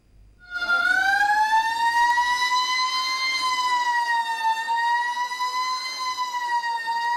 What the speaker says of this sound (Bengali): সাইরেন বাজিয়ে শুরু অনুষ্ঠান